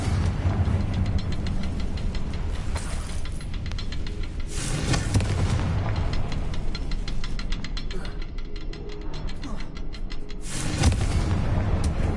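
Confringo blasting spell explosions in Hogwarts Legacy, several loud booming bursts rising out of a dense, rumbling game soundscape, with spaced blasts in the opening seconds and another near the end.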